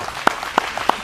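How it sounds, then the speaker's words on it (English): Three sharp hand claps land at an even, unhurried pace, close and distinct, with quiet background between them. "Let's give him a round of applause."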